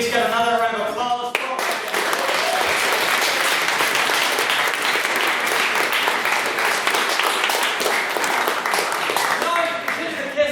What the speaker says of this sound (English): Can we please get another round of applause?